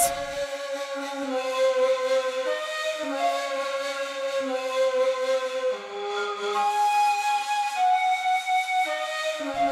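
A second ney flute plays a breathy melody in a tribal-style game score, its airy tone carrying a smooth, sustained line of shifting notes alone and fairly loud for nearly ten seconds.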